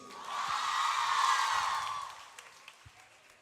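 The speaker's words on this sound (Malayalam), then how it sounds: "അപ്പോൾ അതിന് ജസ്റ്റ് ഒന്ന് കൈയടിക്കുക" An audience at a Yagna Dhruva 2017 special performance claps together, swelling into a dense burst of applause mixed with some crowd noise, then thinning out into a few scattered claps.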